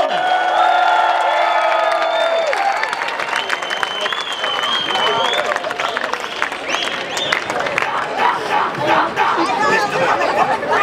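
A large concert crowd at a Canada Day outdoor performance cheers, whoops and applauds continuously, loud and close, with scattered shouts rising above the roar.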